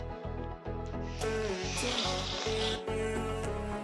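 Ingredients for idli podi sizzle as they roast in a pan, a steady close crackle with rhythmic scraping strokes from stirring; no one speaks.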